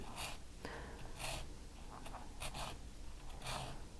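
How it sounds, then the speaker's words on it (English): A metal file is drawn across jewelry to remove excess solder in short, quiet rasping strokes: several separate scrapes at an uneven pace, close and faint, with no talking. "So just continue to file wherever you might see a little bit of extra solder."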